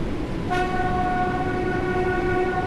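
In Train Sim World 4 on the Isle of Wight route, a train horn sounds a single sustained tone over the steady rumble of the train, loud and close.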